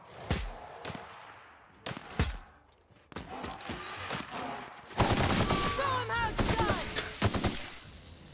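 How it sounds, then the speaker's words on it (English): Gunshots in The Outer Worlds: several sharp single shots spaced apart, then denser rapid fire mixed with chaotic combat effects, loud and close, with someone talking over parts of it. "We can maim it by shooting it in the leg."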